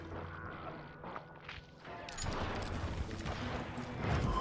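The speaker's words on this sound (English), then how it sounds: "I heard the shots" Gunfire from a shootout in the video game Call of Juarez: Gunslinger, a dense burst of overlapping shots and rumbling blasts that swells and stays loud to the end.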